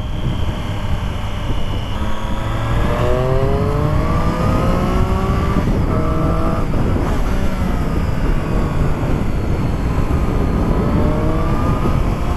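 A Triumph Street Triple S 660 A2 motorcycle engine pulls hard through the gears, its note climbing in repeated rising sweeps, loud and close over a steady rush of wind.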